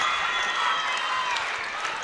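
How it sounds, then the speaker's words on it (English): A high school boys basketball crowd at Meade County versus JHHS applauds a player, a steady wash of clapping and crowd noise that holds at an even level for about two seconds. "Put your hands together, dog. Come on. Clap it down."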